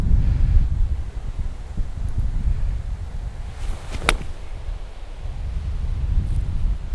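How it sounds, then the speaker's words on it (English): Strong gusty wind sweeps across an open golf course, buffeting the microphone with a low rumbling roar that swells and dips throughout, with a brief sharp swish midway. "that wind is incredible today"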